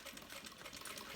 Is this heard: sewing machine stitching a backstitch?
yes